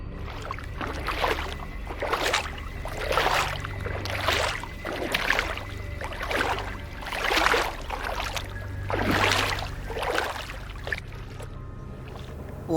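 Oars dip and pull through water in a steady rowing rhythm, about one stroke per second, each a splashy swish of a small boat moving along a river in an animated cartoon, with no voices.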